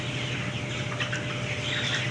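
Twenty-day-old chickens cluck over a dense, steady background of poultry noise in a poultry farm, no voices present.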